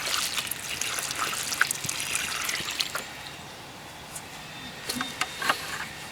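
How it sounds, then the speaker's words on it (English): Water slowly poured from a roughly 2.5-gallon container onto a newly planted bare root rose, a soft continuous trickle into soil with a few brief splashy spikes, close by and fairly quiet. "Now I'm just gonna slowly water the bare rose that we just planted."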